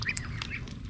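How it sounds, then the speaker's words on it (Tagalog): Farm ducks squawk in short, bright bursts while they drink, several calls close together over a steady low background hum. "Ito, mga bibe."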